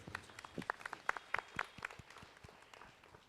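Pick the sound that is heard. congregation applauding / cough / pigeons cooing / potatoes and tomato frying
congregation applauding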